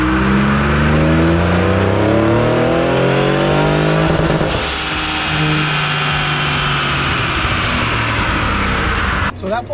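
A 2019 Ford Raptor fitted with a GT750 turbo kit makes a full-throttle pull, the engine climbing steadily and loudly, easing briefly, then building again, heard from close by with occasional voices underneath.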